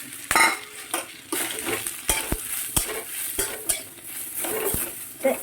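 Greens frying with garlic and nigella seeds in a pan, lively sizzling broken by repeated sharp clinks and scrapes of a utensil stirring against the pan, close and busy with no talk.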